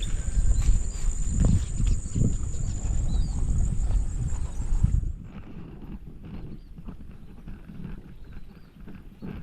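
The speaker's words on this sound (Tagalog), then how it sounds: "May kabayong nakawala." A loose horse that has escaped beside a rice field makes dull hoof thuds and rustling movement close by, louder at first and then quieter and more scattered, with no talking.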